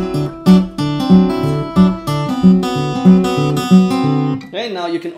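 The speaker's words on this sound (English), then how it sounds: "If you're using Travis picking," Fingerstyle blues guitar in A played with Travis picking, a steady alternating bass thumping under plucked treble notes, close and clear, ending on a ringing bent note.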